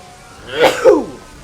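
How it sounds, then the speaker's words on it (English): A single sharp sneeze, close and loud, with a quick breathy intake before the burst. "So sneeze for you there. Commentary sneeze."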